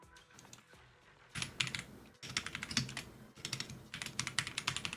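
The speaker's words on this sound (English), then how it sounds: "I cleaned out my keyboard yesterday. I don't know if it's louder, but I cleaned it." Typing on a freshly cleaned computer keyboard, a dense run of close, crisp key clicks in quick irregular bursts with brief pauses between them.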